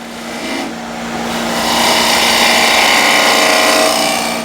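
A wood lathe spins a piece of turned wood while a spindle gouge cuts, giving a continuous close whirring hum with a brighter shaving hiss that swells and holds steady.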